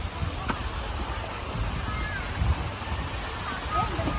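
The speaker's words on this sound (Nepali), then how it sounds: "झरना रहेछ त्यहाँ।" A man-made waterfall at Everland park in Korea rushes as a steady broadband wash of falling water, fairly close, with faint voices and bird calls over it.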